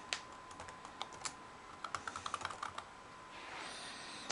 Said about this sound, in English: And then you enter a password.